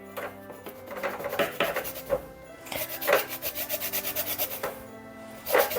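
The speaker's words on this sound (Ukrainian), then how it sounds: "Лімон помитий, беремо тьорочку, трошки сюди додаємо цедри." Washed lemon rubbed against a metal grater for zest, a close, rhythmic rasping of repeated strokes with brief pauses between bursts.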